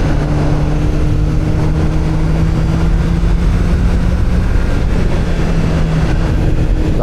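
A Honda CBR650R E-Clutch motorcycle being ridden, a loud, steady engine drone with a constant low hum and wind rush throughout, no voices.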